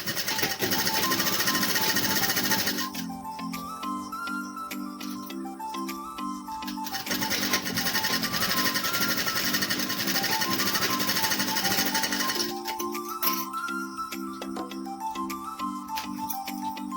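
A nearby sewing machine stitches the side seams of a nightie in loud, rapid mechanical runs. The pace slows between two fast bursts, and there is no talking.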